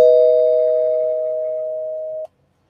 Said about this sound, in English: So here's the spoiler bell.